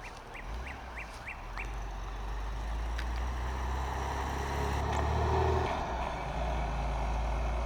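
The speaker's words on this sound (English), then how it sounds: "here's a little look at it coming down the road" A 1966 Chevrolet Corvair Corsa turbo convertible drives along a road, its low engine rumble building and peaking as it nears, while ducks quack in short bursts early on.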